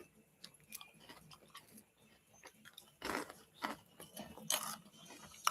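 Crunchy Pizza Hut fries are chewed close to the microphone, with quiet crunching at first and then louder, irregular bites and crunches in bursts.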